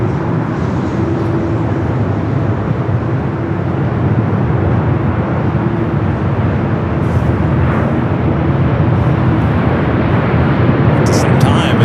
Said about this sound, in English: Heading to Seoul in this 787-9 Dreamliner